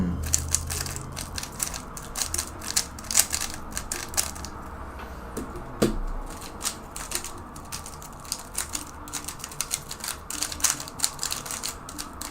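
A Rubik's cube is turned rapidly by hand, producing a dense run of sharp plastic clicks and clacks, close and crisp, in irregular bursts for the whole stretch.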